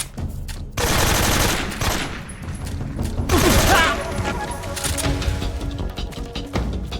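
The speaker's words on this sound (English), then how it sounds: "Single shot AK." AK rifle fire in the video game Metal Gear Solid 3, loud dense bursts of cracking shots and explosive crashes filling most of the stretch, with a short quiet gap near the start and game noise underneath.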